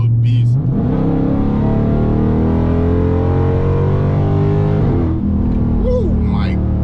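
A 2019 Dodge Charger Scat Pack, modified, accelerating hard with a loud, steady, rising engine roar held for several seconds, then a shift and settling rev, with a voice briefly heard at the start.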